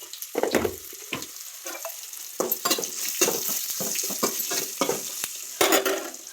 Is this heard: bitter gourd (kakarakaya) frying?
yes